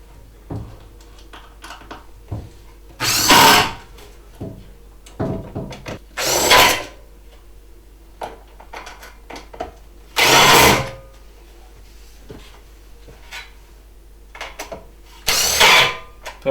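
A power drill drives screws into loft board supports over thick insulation in a loft, with four separate loud whirring bursts of about a second each, spaced apart by quieter handling noises.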